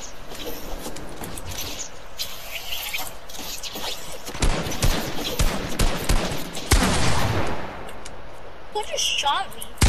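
Rapid bursts of gunfire from a Fortnite match crackle through the clip, with loud clustered shots around the middle and near the end, amid game noise and players talking.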